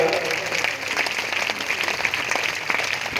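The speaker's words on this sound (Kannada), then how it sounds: "ಎಲ್ಲರೂ ಜೋರಾದ ಚಪ್ಪಾಳೆಯಿಂದ" Crowd applause at a tulabhara ceremony, a dense continuous patter of many hands clapping at close range, with voices mixed in the background throughout.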